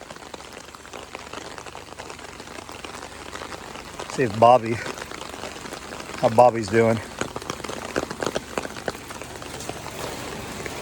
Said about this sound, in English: This is so much rain.